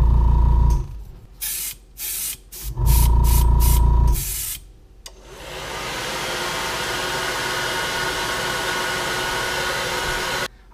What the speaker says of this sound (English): then we're just going to get the normal green, spray some of that on there too, just to lighten it up a little bit